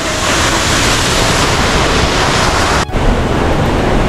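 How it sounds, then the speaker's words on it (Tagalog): A waterfall in Ilocos Sur rushes loudly at very close range, a dense unbroken roar of falling water with a brief dropout near the end. "Ito yung pinaka-closest ko dito sa falls."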